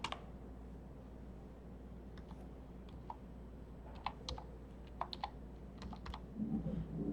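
Light typing on a computer keyboard during library catalogue data entry, a run of soft, irregular key clicks over steady low room hum, close and quiet, with no talking.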